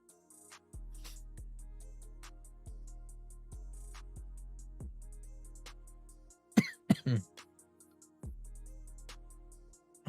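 A run of low, harsh throat-clearing coughs repeats at uneven intervals, with a louder burst of rough hacking near the end, all close and alone.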